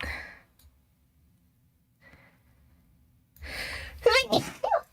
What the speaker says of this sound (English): I've been sneezing a lot, so if you hear me sneeze, I'm so sorry.